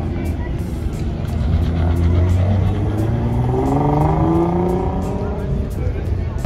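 A dark purple wide-body Nissan GTR Spec V drives on an airfield, its engine droning and rising in pitch as it accelerates close by, a continuous loud roar with people talking over it.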